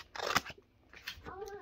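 Scissors cutting sticker sheets, giving a couple of short crisp snips at close range before a brief quiet gap and faint movement.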